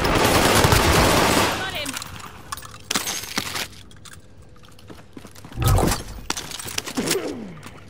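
Rapid bursts of automatic gunfire and sharp shots in an online shooter game, loud at first and then scattered single cracks and thuds, with a few game effects mixed in.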